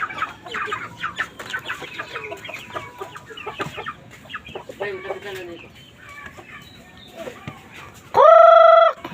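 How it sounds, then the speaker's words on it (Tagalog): Chickens cluck and chatter nearby in a busy, irregular stream, ending with a loud, sustained tonal beep. "Ang kukulit ng mga manok ko."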